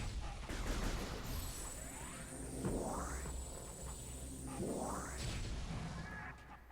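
Super missiles fired at power troopers in Metroid Prime Remastered, two rising whooshing launches with impacts amid dense game noise and sweeping tones.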